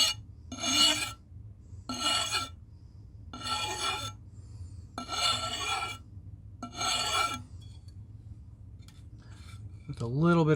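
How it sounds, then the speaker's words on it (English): A hand file draws across an axe bit in five steady rasping strokes, each about a second long with short pauses between, close and clear over a low background hum. "I did a coarse double cut and then a fine single cut filing."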